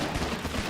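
Rapid automatic turret fire in the colony sim RimWorld, a dense, continuous burst of gunshots over less than a second with no clear gaps.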